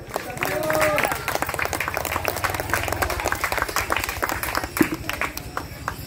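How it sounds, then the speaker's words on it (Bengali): Audience at a Milan Sangha club felicitation ceremony clapping steadily throughout, a dense patter of hands with voices and a brief tone mixed in. "সবাই একটু হাততালি দেবে।"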